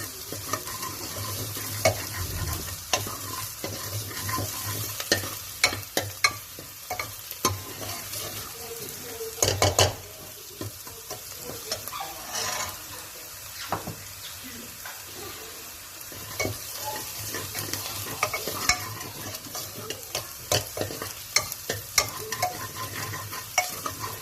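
Chopped onions fry in a pan for vegetable dal khichdi: a continuous, fairly quiet sizzle, with irregular scraping and clinking as a spoon stirs them now and then.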